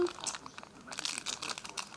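Foil being peeled and crinkled off a paper-style snack, a dense run of crisp rustling and crackling bursts close to the mic, with a faint voice nearby.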